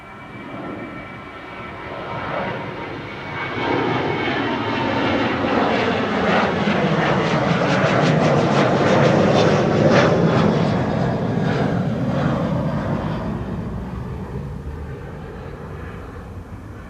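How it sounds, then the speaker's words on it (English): Boeing 737 bound for Stockholm at Amsterdam Schiphol, jet engines rising from a moderate hum to a loud, sweeping roar mid-way, then easing off as the aircraft moves past; no voices. "This is a 737 to Stockholm"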